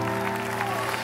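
A church congregation at a prophetic service applauding in a steady, dense patter of many hands, continuous and moderately loud, over sustained instrumental tones.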